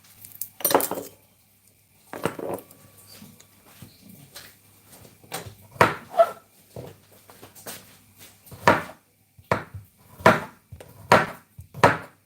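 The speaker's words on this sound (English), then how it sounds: "I'm just chopping up more garlic." A knife chops garlic on a board in a home kitchen: irregular bursts of sharp taps with short pauses between them, fairly close and clear, no talking.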